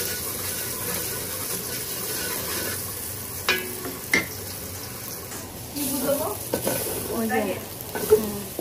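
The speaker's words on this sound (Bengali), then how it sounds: "মশলাটা ভেজে নিব।" Spice masala frying in a pan makes a steady sizzling hiss, with a few clicks and scrapes of stirring and someone speaking briefly near the end.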